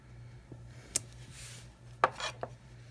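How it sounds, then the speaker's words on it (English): A rubber stamp with a Christmas tree design is pressed down, giving a few soft, close thuds and brief rubbing contacts against a quiet background. "we're going to stamp that right over"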